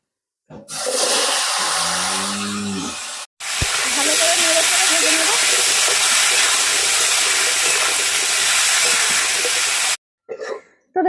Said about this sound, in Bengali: তো এই মাছের তেলে আমি দিয়ে দেবো ভেজে নেব